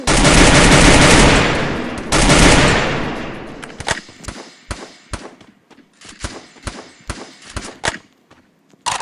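Gunfire in a shooting game, starting with loud sustained bursts of rapid fire, then separate sharp shots and short volleys in an irregular rhythm, close and punchy, with no talking.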